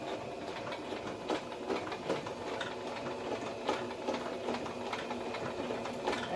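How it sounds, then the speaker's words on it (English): A borrowed sewing machine stitches fabric in a steady, rapid mechanical whir, its needle ticking in a regular rhythm with small surges in pace, close and moderately quiet. "I had a friend let me borrow their sewing machine"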